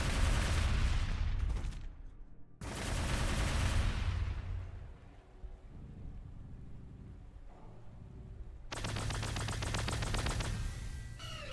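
Attacking units in the Warhammer 40,000 Gladius strategy game open fire in loud, dense bursts of rapid automatic gunfire with booming impacts. Two heavy volleys come early, a quieter rumbling gap follows, then another sustained fusillade. No voices are heard.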